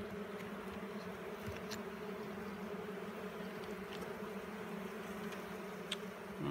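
Honey bees droning steadily inside an opened hive, a continuous low hum with faint scattered buzzes of individual bees passing close.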